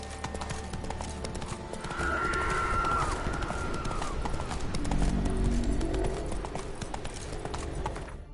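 Roach the horse gallops in The Witcher 3, a quick steady clatter of hoofbeats heard close and loud over an ambient game backdrop, with a brief whinny-like cry in the middle.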